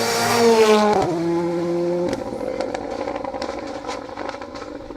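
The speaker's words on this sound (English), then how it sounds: "R5 Fiesta through the chicane and away" An R5 Ford Fiesta rally car powers through a chicane on a rally stage, its engine revving hard and high, dropping pitch sharply with a gear change, then crackling and popping away into a rougher, fading drone.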